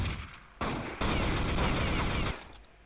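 Desert Eagle pistol gunfire in a Counter-Strike match, loud overlapping shots and a rapid burst of fire from nearby weapons, with faint commentary beneath.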